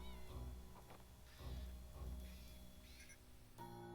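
A cat in the video game Impostor Factory gives several soft, high meows, faint and spaced out, over quiet game music.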